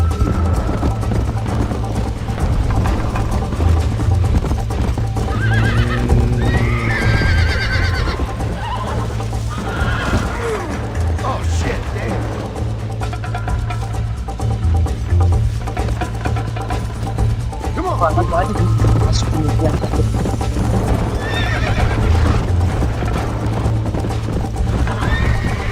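A horse in Red Dead Redemption gallops with loud, continuous hoofbeats and repeated neighs and whinnies, sitting over a steady low background of game sound.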